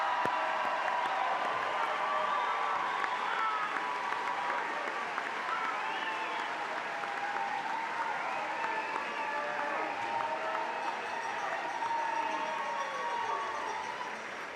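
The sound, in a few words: applause for graduating class at commencement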